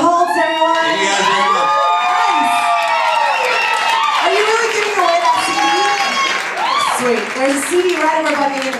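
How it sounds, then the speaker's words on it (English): A loud crowd cheers, shouts and applauds at a live rock set at Winston's Ocean Beach, with voices rising over steady clapping throughout and a continuous dense roar. "Give it up. Let me hear David's crowd."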